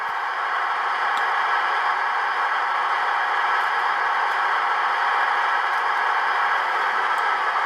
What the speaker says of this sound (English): what you're hearing is the head-end power of this locomotive